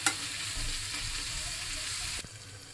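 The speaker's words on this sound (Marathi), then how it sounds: "1-2 मिनटं आपण हे झाकण ठेवून सनी काजू चांगले फ्राय करून देऊया" Fresh cashews fry in a covered pan with a steady, fairly quiet hiss. The sizzle holds evenly, then dips in level near the end.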